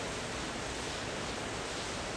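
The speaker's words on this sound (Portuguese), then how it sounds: "Olha o barulho de chuva." Heavy downpour falling steadily outdoors, a dense, even hiss of rain with a soft low rumble underneath, constant throughout and with no voices.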